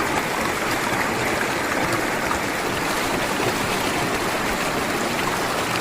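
Water from the Sahasralinga river rushes over rocks in a steady, close, broadband wash that never breaks, with no voices.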